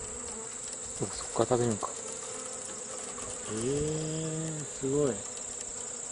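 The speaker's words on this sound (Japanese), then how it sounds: "両腕にミツバチ。" Honeybees gripped in a praying mantis's forelegs give off short, close buzzing bursts, first a cluster of quick buzzes and then a longer sustained drone followed by another brief burst, while people talk softly in the background.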